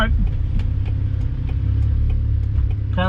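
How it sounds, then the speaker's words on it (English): A 1988 Ford Festiva's engine runs steadily while driving, a loud low rumbling drone with light ticking and rattling over it, and a voice speaks briefly. "car runs really good"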